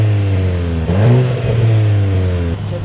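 A VW Golf 8 GTI engine revs against its limiter near 3,800 rpm, a loud steady droning hum with a brief surge and dip in the middle before settling back, heard alone without voices.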